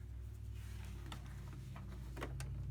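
A sewing machine runs a quick stitch joining front and back waistband pieces, giving a fast, even mechanical whir with light ticking clicks, faint and close, with no talking.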